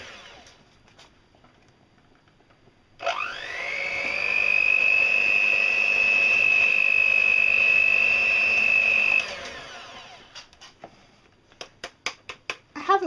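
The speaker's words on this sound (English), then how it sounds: "We're going to try and put them together with the electric whisk. It will be noisy." An electric hand whisk whirs steadily through Victoria sponge cake batter, a loud continuous motor whine lasting several seconds before cutting off, followed by a run of sharp clicks and taps.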